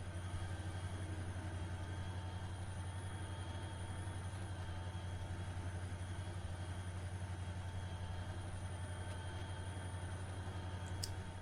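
A train engine in Trainz Simulator 3, on an Australian rescue mission route, drones steadily and faintly at low pitch with a constant hum and no talk.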